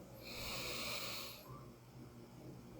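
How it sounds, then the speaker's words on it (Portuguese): A slow, deep inhalation during a guided meditation, drawn through as a soft, breathy hiss for about a second and a half and heard close up, then fading into quiet. "Tome uma respiração mais profunda."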